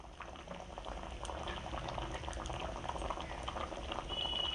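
Water boils in a pot of duck eggs on a gas stove, with a close, steady bubbling and popping rumble that grows slightly louder.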